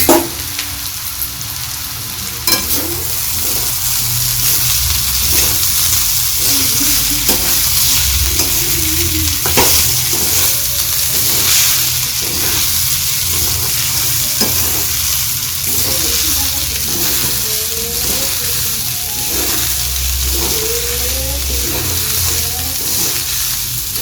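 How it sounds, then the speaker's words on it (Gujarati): Mustard seeds and crushed pigeon peas frying in hot oil, a loud continuous sizzle with crackling pops and stirring scrapes, a low hum underneath, and a voice speaking faintly at times. "તેલ ગરમ થાય, રઈ સંતળાઈ જાય એટલે તેની અંદર આપણે તુવેર જે ક્રશ કરીને રાખી છે તે એડ કરી દેવાની છે."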